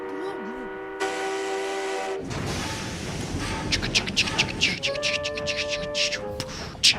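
A train whistle blows long, steady tones, then a rumbling train starts moving off with further whistle blasts as people talk over it.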